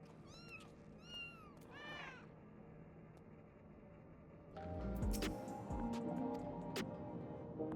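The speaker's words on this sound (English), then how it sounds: "The cat's in the background." A cat meows several times in quick rising calls, faint and set back, then gives way to louder game sound effects and music.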